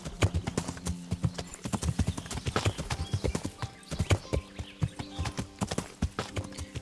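Horse hooves clip-clop in a steady, fairly close rhythm from the medieval game Kingdom Come: Deliverance, a brief whinny mixed in and no talk over it.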